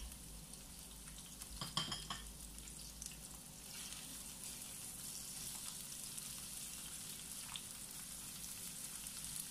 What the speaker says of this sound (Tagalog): ipiprito or isosote po muna natin ang ating sibuyas at bawang